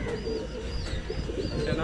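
Racing and fancy pigeons at a loft in Kochi coo steadily and close by, soft throaty rolls overlapping in a continuous murmur with a few faint chirps above.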